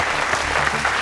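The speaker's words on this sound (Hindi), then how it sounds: "जोरदार तालियां।" A studio audience at a magic show in a Hindi courtroom drama claps loudly. The applause is dense and steady and fills the whole short moment.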